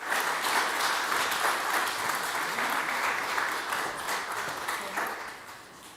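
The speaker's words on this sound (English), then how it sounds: "Applause for Miss Sairita Kasar" An audience at a World Bee Day ceremony applauds certificate recipients, with dense clapping from many people, steady at first and then thinning and fading toward the end.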